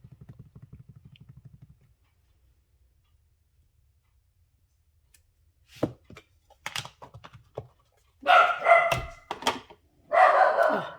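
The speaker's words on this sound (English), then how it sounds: "My dog started barking" A dog barks at someone outside, starting with a few sharp isolated barks and building into loud, rapid bursts of barking close by, after a soft ticking at the start and a long quiet stretch.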